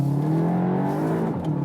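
A VW Arteon R Shooting Brake accelerates hard out of a hairpin corner in first gear, its engine note rising steadily, close and continuous, with no talking.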